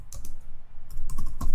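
Close, crisp clicks of a computer keyboard as a short command is typed in quick irregular bursts, ending with a firmer keystroke, with no voices.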